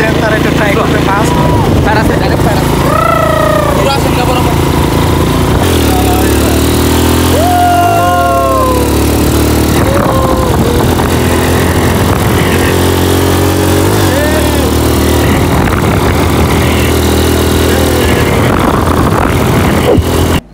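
ATV quad bike ride along the sea beach at Cox's Bazar, with a steady, loud engine drone rising and falling in pitch throughout, with wind noise and people talking over it.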